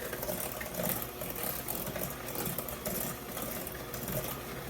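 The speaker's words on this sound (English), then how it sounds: "So let me just mix this up." Apple muffin batter with Honeycrisp apples being mixed, a continuous rattling whir at moderate level with no voices.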